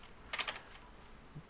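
Keys on a computer keyboard clatter in a quick burst of a few close, crisp taps, then a short pause before one last soft key press.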